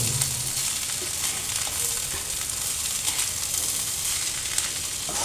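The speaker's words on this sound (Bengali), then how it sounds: "চাল ডালটা খুব সুন্দর করে ভাজা হয়ে গেছে" Rice and lentils fry in a pan with meat, giving a steady close sizzle and hiss that continues evenly throughout, with occasional soft stirring noises.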